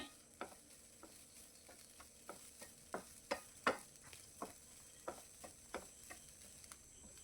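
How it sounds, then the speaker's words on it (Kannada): Masala with turmeric frying in a pan for Udupi-style mutton curry, a low sizzle under a steady run of sharp spoon scrapes and taps against the pan at an even, unhurried rhythm, no talking. "ಇದು ಚೆನ್ನಾಗಿ ರೋಸ್ಟ್ ಆಗುತ್ತೆ, ಅಲ್ಲಿವರೆಗೂ ಇದನ್ನು ನಾನು ಸ್ವಲ್ಪ ಫ್ರೈ ಮಾಡ್ಕೊಳ್ತೀನಿ."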